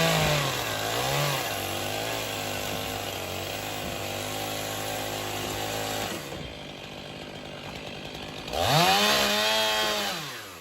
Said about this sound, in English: The two-stroke engine screams in the enclosed space, rapidly slicing down the heavy timber.